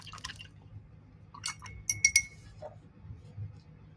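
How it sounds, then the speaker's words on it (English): A paintbrush is swished in a glass of water while painting, with a few quiet splashes and bright clinks of the bristles and handle against the glass in a quiet room. "I'm going to wash my brush."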